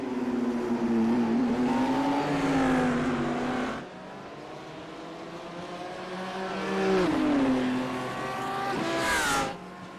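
Two BMW race cars battling at Sandown in iRacing, engines howling and rising in pitch through the gears, dropping on a shift, with a brief tire squeal near the end, loud and close.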